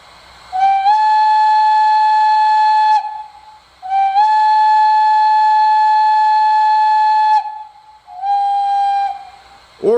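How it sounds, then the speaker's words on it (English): Standard whistle of an MTH Bavarian S 3/6 steam model train, triggered from a DCS remote: three loud, steady chime-like blasts, the first two long and the last shorter, with brief gaps between them and no talk. "You can just do the standard whistle by pressing the white button on the DCS"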